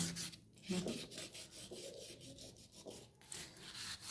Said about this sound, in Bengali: লেবুর খোসাটা দিয়ে ভালো করে ঘষে ঘষে ঘষে ঘষে পরিষ্কার করে নেব